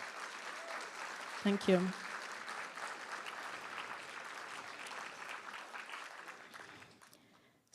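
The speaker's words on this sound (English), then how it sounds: "Could we please have another round of applause for Julia?" An audience claps in steady applause at a Martin Luther King Jr. celebration event, a broad continuous patter that fades toward the end, with a brief spoken thanks over it.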